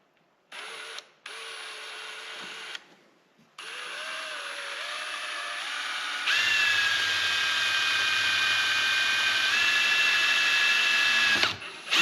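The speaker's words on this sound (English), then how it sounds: "Nice thing with drilling aluminum, it's pretty soft. It's really not that hard to put holes in it." A power drill bores holes in soft aluminum in several runs, whining steadily with pitch shifts and short pauses between bursts, then a longer, louder pass near the end, close and alone.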